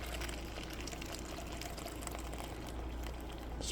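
Liquid being poured steadily from a container, a continuous faint splashing trickle with no voices.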